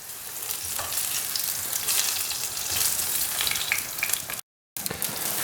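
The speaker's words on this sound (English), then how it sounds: "I've got the 2 pans frying away" Aubergine slices fry in olive oil in two pans, a steady loud hiss and crackle of sizzling close by, with a short silent gap near the end.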